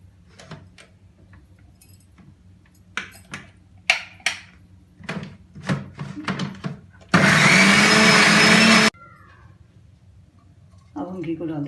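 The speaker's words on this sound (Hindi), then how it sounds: "अब इसको पीस लेते हैं। 1 मिर्च और धनिया के साथ इसकी प्यूरी बना लेते हैं।" A blender grinds spinach with chilli and coriander into puree in a short, loud burst of about two seconds, preceded by clinks and handling noises of kitchen utensils and followed by quieter clatter.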